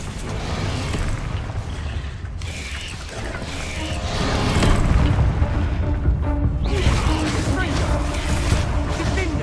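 Confringo blasting spells explode repeatedly in the video game Hogwarts Legacy, with heavy booming blasts and crashes building louder midway over continuous combat noise.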